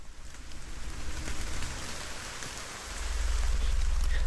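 Steady rain falls in a video game village, a dense hiss that swells slightly midway and then grows heavier with a low rumble toward the end, and no voices.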